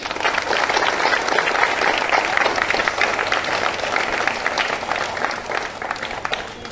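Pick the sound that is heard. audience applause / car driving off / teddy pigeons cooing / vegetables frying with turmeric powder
audience applause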